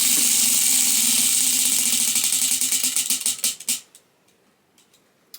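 A prompt wheel spins with a rapid stream of ticking clicks that gradually spread apart and slow, then stop after a few seconds, leaving near silence.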